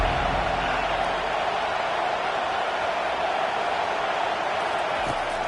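A large stadium crowd at a football game roars and cheers loudly and continuously, a dense wall of noise that holds steady throughout.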